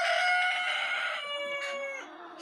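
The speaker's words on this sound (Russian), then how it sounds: "Сейчас еще покажу и курешек своих." Backyard hens make a long, drawn-out crowing or cackling call, loud and close, with a second call rising near the end and no talking.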